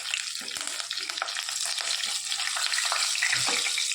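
Cloves, cinnamon, red chillies and curry leaves fry in hot oil over low flame, a bright continuous crackling sizzle that grows slightly louder, with a soft low hum underneath.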